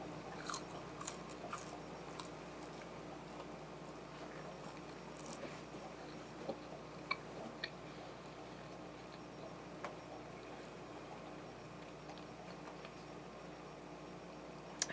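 Food being eaten and chewed during a mukbang: faint, close crunches and small bites scattered irregularly over a low steady room hum, quiet throughout with no clear talk.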